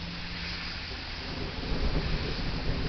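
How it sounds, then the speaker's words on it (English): Thunder rumbles through a heavy thunderstorm with steady rain in Texas, a broad continuous roar that swells louder in the second half, heard close and alone without talk. "So basically we have a really bad storm right now."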